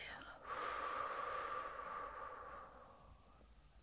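One slow, close exhale, soft and airy with a faint whispery tone, drawn out over a few seconds and fading near the end, in a quiet ASMR relaxation setting.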